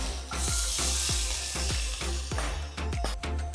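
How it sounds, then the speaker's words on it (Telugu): Chopped onion and green chillies fry in hot oil with a loud, steady sizzle, broken by repeated sharp scrapes and clinks of a spatula stirring the pan. "తరిగిన 1 పెద్ద ఉల్లిపాయ, తరిగిన 2 పచ్చిమిరపకాయలు కూడా వేసి వేయించుకోవాలి"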